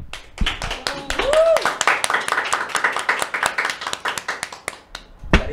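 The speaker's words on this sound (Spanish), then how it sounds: "también la recibimos con un fuerte aplauso" Audience applause at a Catholic talk-show event: a brisk run of sharp hand claps from a modest crowd, with a voice speaking over the start.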